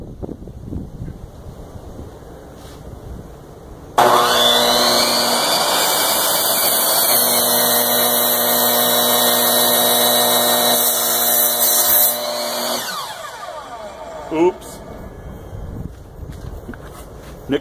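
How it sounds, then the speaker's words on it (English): A power saw with a carbide blade whines loudly and steadily for about nine seconds while cutting wood, then spins down. Quieter handling noises come before and after the cut. "Now I'm going to cut another angle on it going this way, and I'm going to do that with my saw again."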